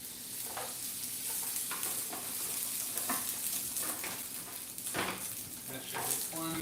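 Snow peas stir-frying in hot avocado oil in a pan, a steady loud sizzle broken by repeated scraping stirs and occasional clinks of the utensil against the pan.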